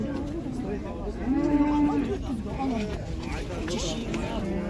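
At a busy livestock market, a cow lets out one drawn-out moo in the middle of the clip while people talk nearby and crowd noise carries on throughout.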